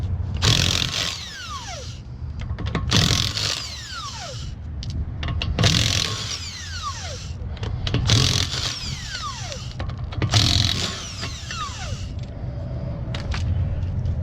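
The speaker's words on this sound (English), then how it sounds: "I use a 3/4 to remove the 5 lug nuts" A 3/4 impact tool on a Buick LaCrosse removes five lug nuts, with loud buzzing bursts repeating about every two and a half seconds, each falling in pitch as a nut spins off, close and without talk.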